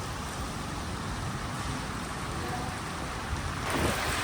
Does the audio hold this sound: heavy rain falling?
yes